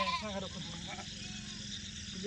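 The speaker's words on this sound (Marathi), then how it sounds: "छोट्या छोट्या पिल्लाच्या मेंढ्या बघितल्या" Sheep and lambs bleat at a shepherds' camp, with a couple of short wavering bleats near the start rising over a quiet flock background, and people talking nearby.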